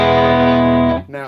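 Electric guitar driven through a Boss Blues Driver overdrive pedal rings out one loud, sustained distorted chord for about a second, then cuts short into a quicker, fainter second strum.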